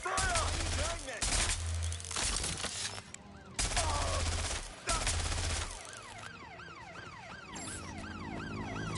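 Bursts of rapid gunfire ring out in Watch Dogs Legion, the video game, loud and close, with a wailing police siren rising and falling and a voice shouting over the chaos.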